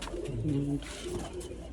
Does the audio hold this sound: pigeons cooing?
yes